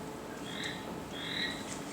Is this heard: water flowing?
no